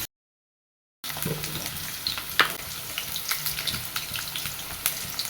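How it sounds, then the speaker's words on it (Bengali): Potatoes frying in hot oil, with a steady bubbling sizzle that starts abruptly after a second of silence, plus a few sharp clinks and scrapes of stirring. "তেলটা গরম হওয়ার পথে এবার আলুগুলো ভেজে নিব"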